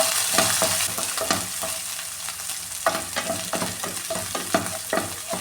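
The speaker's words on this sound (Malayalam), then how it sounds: "ഈ ക്രഷ് ചെയ്ത് വെച്ചിരിക്കുന്ന ഇഞ്ചിയും വെളുത്തുള്ളിയും പച്ചമുളകും കൂടെ ഇട്ട് കൊടുക്കാമേ" Crushed ginger, garlic and green chilies sizzle in a hot pan for chicken curry, with frequent spatula stirs and scrapes over a constant frying hiss, close and unvoiced.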